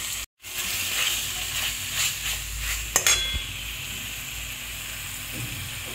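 Masala being stir-fried in a pan for a vegetarian potato and soybean curry, a steady close sizzle with scraping spoon strokes, a brief drop-out near the start and a sharper clatter around the middle.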